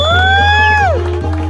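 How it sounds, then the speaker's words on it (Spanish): At a quinceañera party, a crowd cheers loudly. A single drawn-out whooping voice rises above it, then slides down in pitch, over a steady low hum and a few soft rhythmic thumps. "Ese aplauso fuertísimo. Que se escuche ese aplauso."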